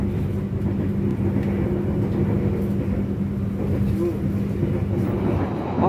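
Noisy cabin of the stainless steel-bodied KA Sawunggalih passenger train, a steady low rumble and hum of wheels and body resonance filling the carriage throughout.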